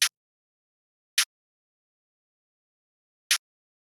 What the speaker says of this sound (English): And then I made this super simple snare pattern.